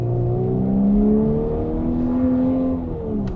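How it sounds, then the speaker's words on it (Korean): A Volkswagen Atlas large SUV with a 2-liter turbo engine in sport mode, its artificial muscle-car-style exhaust note piped in, a steady low droning engine tone with gently rising pitch, close and continuous throughout. "스포츠 모드를 넣으니까 인공 배기 사운드가 같이 들려요"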